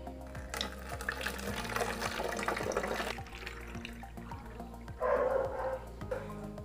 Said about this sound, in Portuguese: eu vou pegar e colocar a água dentro da garrafa